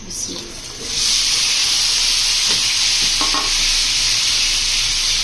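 Stuffed aubergines fry loudly in a pan, a steady, bright sizzle that jumps up after a second and holds strong, with a few soft clinks under it.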